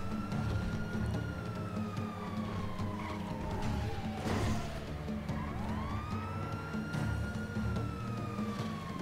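Police sirens wail in a car chase video game, rising and falling in long sweeps over engine and tire noise, fairly loud and continuous throughout.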